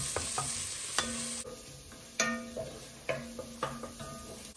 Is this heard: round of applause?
no